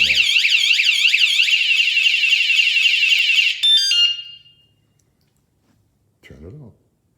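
A wsdcam 113dB wireless vibration bike alarm blaring a loud, rapidly warbling electronic siren close by for several seconds, switching to a brief different tone before stopping; a voice follows after a pause.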